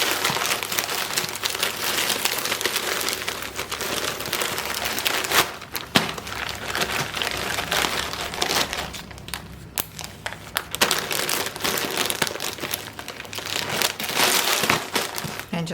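Plastic bags crinkling and rustling while double bagging broken biscuit pieces in a kitchen, loud continuous crackly crumpling close to the microphone with short pauses and no talking.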